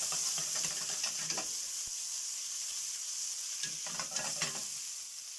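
A quiet, steady sizzle of meat sauce browning in a pan, with a few soft bursts of stirring and spatter, heard up close at low volume with no voices.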